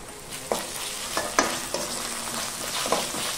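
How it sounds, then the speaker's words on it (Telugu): Ginger garlic paste fries with browned onions in a pan, a soft steady sizzle broken by a few sharp scraping stirs of a spoon. "ఉల్లిగడ్డ బాగా ఎర్రగా వేగాక ఇందులోకి 1 టేబుల్ స్పూన్ అల్లం వెల్లుల్లి పేస్ట్ వేసుకోవాలి"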